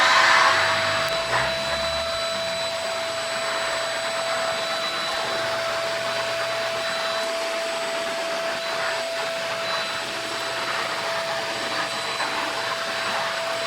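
A FruSun pet vacuum on boost mode runs with a loud, steady motor roar and a high whine that holds constant from start to finish.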